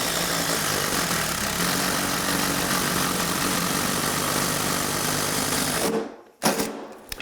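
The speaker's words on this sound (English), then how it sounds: "set this in the middle of the stud, and then just drill" A cordless drill bores a hole through a wooden stud in a subfloor, a loud continuous grinding whir lasting about six seconds before stopping abruptly, followed by a few faint knocks.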